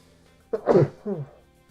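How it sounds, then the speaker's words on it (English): One short, close sneeze bursts out: a sharp intake, an explosive puff, then a brief voiced trailing sound. "Ooh, I gotta sneeze."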